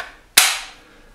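A Crosman Benjamin Wildfire semi-auto air rifle, charged to 1500 PSI, fires a single sharp crack up close that fades in a short, hissy tail.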